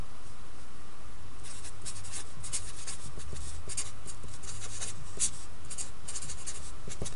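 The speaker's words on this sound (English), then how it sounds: "Write that down." A pen scratches across paper in a short run of quick, close writing strokes that break off and start again, with no talk over them.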